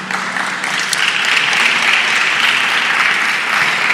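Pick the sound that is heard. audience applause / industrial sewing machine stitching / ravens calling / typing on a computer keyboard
audience applause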